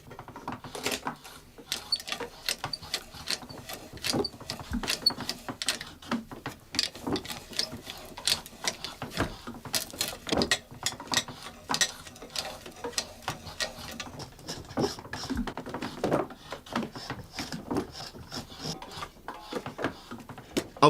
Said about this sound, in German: Die beiden konischen Löcher werden noch mit dem Löffelbohrer ausgehöhlt.